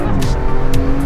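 A turbocharged tuned car surges forward under light throttle, its engine a steady loud drone close up, with brief hissy bursts riding over it through the short moment.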